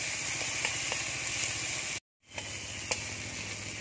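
A spice paste of cumin and turmeric frying in a pan, giving a steady, fairly faint sizzle with a few small ticks, broken by a short total dropout before the sizzle resumes.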